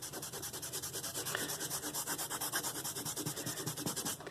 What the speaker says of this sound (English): Now I'm going to take an eraser.